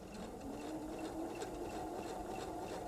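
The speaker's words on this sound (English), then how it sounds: "This machine is set to automatically knot at the beginning of the stitch" A sewing machine set to tie an automatic knot at the start of a seam stitches fabric in a continuous, fairly quiet motor hum with a rapid, even needle rhythm.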